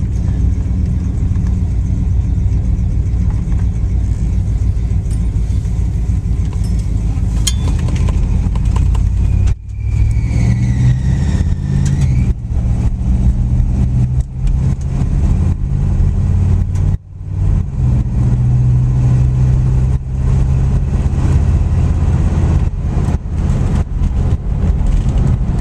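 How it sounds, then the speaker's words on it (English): A 1965 Cadillac Sedan DeVille drives on a road test. Its engine gives a steady, loud low drone, with brief dips and a few rising tones as it shifts or the revs change. "We'll go for a little test drive in the 65 Sedan DeVille."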